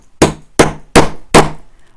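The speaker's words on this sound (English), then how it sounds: "I get the tool that has the indentation, pop that over the top and give it a hammer" Four sharp, evenly spaced hammer blows strike an indented tool set over a small plastic Polly Pocket case part. Each knock is loud and close with a quick ringing decay.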